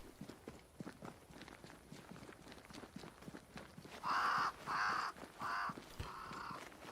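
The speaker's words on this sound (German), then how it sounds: "Crows. They flock to that great tree up there." Crows cawing in the video game Banishers: Ghosts of New Eden, flocking near a great tree: several loud, harsh caws come in a broken series over steady footsteps crunching along a path.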